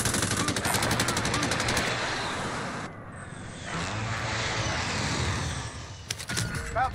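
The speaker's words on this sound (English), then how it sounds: "Oh, they're shooting at me." Call of Duty: Warzone gunfire crackles in rapid automatic bursts at the start and again near the end, loud and close, with a rushing wind-like roar filling the quieter middle stretch.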